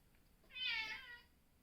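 An elderly house cat gives a single drawn-out meow, close and clear against a quiet room.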